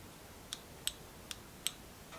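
Trigger of a BESTARC MIG145 welder clicking four times at uneven intervals, small sharp plastic ticks, quiet and close over a faint background hiss.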